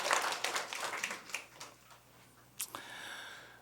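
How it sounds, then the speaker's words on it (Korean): A church congregation claps during a Sunday worship service to encourage young fathers, the clapping faint and distant, fading out quickly with a few scattered claps and small noises afterward. "우리 30, 40대 젊은 우리 아빠들 힘내라고 우리 박수 한번 하면 좋겠습니다"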